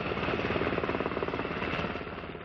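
A navy helicopter aboard a cruiser thumps steadily with a fast, pulsing rotor chop and engine whine, loud and close, fading slightly toward the end.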